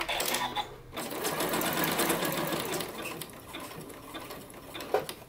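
A home sewing machine stitches a zigzag box and X into knit sweat shorts, running continuously with a fast, close, rattling mechanical hum and brief slowdowns.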